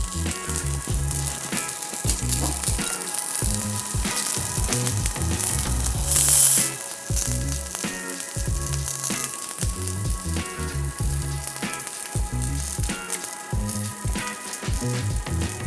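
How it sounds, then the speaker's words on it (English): A pork sausage patty fries in a pan with a loud, continuous crackling sizzle, and a short sharp hiss of spattering partway through; no talking. "we're going to fry up this sausage patty"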